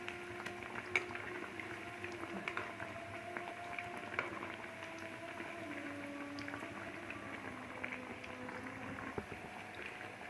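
Crispy chicken kebabs fry in a pan with a soft, continuous sizzle and gentle bubbling, quiet and steady without any talking over it.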